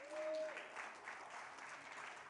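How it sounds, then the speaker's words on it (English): An audience applauds for Keliʻi Grace at the Aha Mele Ea 2021 event, a steady, broad wash of clapping that carries at an even level throughout, with a brief tone near the start. "Please, big round of applause for Keliʻi Grace"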